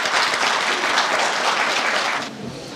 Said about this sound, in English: So a huge round of applause to all of them